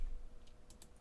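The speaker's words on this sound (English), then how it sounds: "we're going to type in equal" Typing on a computer keyboard during Unreal Engine blueprint work: a few quick, soft key clicks close by, with a brief flurry near the end over low room hum.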